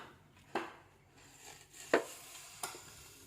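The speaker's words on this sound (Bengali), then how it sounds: "এই থোরে কোপ লাগছে কিন্তু" A banana stem is chopped with three sharp, separate knife strikes spaced a second or so apart, close and clear against a quiet kitchen background.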